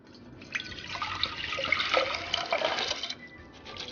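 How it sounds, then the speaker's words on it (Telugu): Water poured steadily into a pan of soaked moong dal, a continuous splashing gurgle that swells and holds for a few seconds before ending with a clink. "వాటర్ కూడా యాడ్ చేస్తున్నాను"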